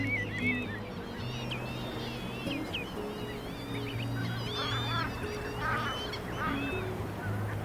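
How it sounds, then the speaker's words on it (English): A large flock of wild geese honks continuously at a wetland, many overlapping calls near and far forming a busy, moderately loud chorus with no talk. "We welcome hundreds of thousands of wetland birds to our shores every year."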